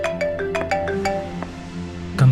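A mobile phone ringtone plays a bright melodic pattern of repeated electronic notes at steady volume, with no talking, in a Turkish drama scene.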